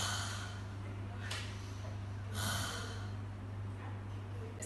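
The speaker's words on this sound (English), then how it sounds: "Short breathe in, long breathe out." During a physiotherapy session, a patient performs the forced expiratory technique, taking short breaths in and long breaths out. The breaths are audible as soft, close bursts of air over a low, steady background hum.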